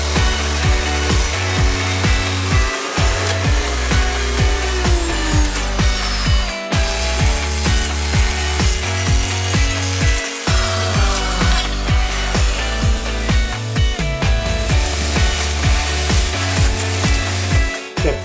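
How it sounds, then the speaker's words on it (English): A wood router fitted with a 1/2 inch straight bit plows out a wide recess in a wooden prop replica, a loud continuous high whine with rhythmic dips and surges as the cut is worked back and forth. "We're gonna put in this 1/2 inch straight bit, and then we'll plow out this whole area."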